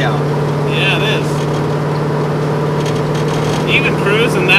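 A 1957 Chevrolet Bel Air restomod cruising on a windy day, its engine a steady low drone beneath wind noise, with people talking over it.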